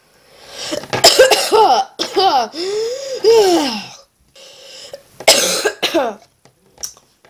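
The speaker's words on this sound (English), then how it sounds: "I'm not making myself cough, by the way" A sick person coughs hard several times in close succession, with raspy, wheezing breaths between bursts, close and loud, followed by a few weaker coughs.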